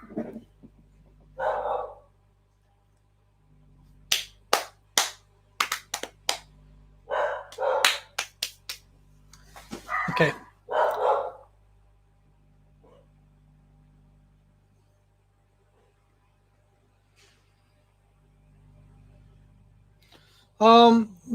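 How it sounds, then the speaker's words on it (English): Several excited dogs bark in short bursts, loud and close, mixed with a person talking nearby, then quiet stretches and one final sharp bark at the end. "dogs got excited."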